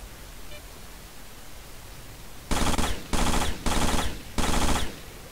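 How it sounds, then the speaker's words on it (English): Four sustained bursts of automatic gunfire from a gun in the video game STALKER, loud and close, each about half a second long with short gaps between, following a quiet stretch. "I've burnt through nearly 400 rounds with this gun already"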